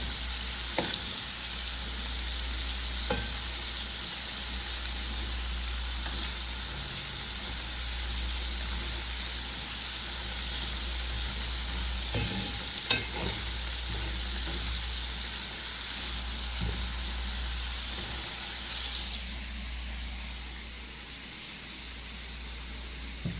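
Potato chips frying in hot oil, a steady broadband sizzle running throughout with occasional faint clinks, close and moderately loud with no voices.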